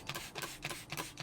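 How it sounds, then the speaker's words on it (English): A spray bottle mists a jade plant to treat mealybugs, giving several short hissing bursts in quick succession, close and fairly quiet. "Just gonna spray that"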